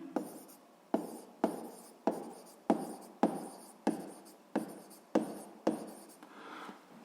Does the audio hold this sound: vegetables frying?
no